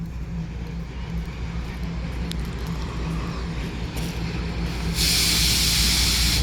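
The Viterets train of the Lviv Children's Railway arrives at Parkova station: a low, steady rumble of the train and wheels, then a loud burst of hissing steam or air near the end.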